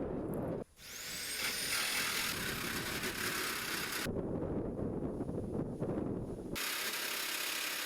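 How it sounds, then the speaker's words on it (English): A jigsaw trims a metal window cutout on a skoolie bus, a loud, continuous harsh buzzing cut that starts after a brief pause, with wind noise around it and the tone shifting partway through. "So I grabbed my jigsaw and did just that."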